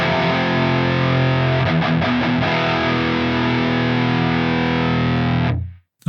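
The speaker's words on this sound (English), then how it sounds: "I've got a rectifier, got a bit of delay on that as well." NUX Trident multi-effects pedal running a rectifier amp model with delay: a loud, heavily distorted electric guitar sustains and rings with some chugged notes, its tail lingering briefly before fading out.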